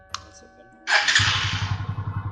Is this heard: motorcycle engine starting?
yes